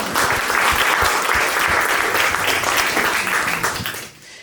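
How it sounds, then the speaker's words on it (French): Audience applause at a design leadership event, steady, full clapping from a crowd lasting several seconds before cutting off quickly at the end. "vous pouvez l'applaudir aussi."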